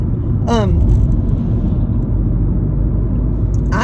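Car driving along a road, a loud steady low rumble of engine and tyres from inside the cabin throughout, with brief chirps near the start and end.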